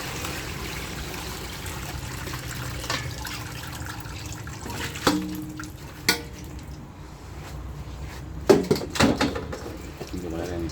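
Tap water runs and splashes steadily while vegetables are washed for a Lao sour pickle, with a few sharp knocks and clatters of handling and a person talking over it.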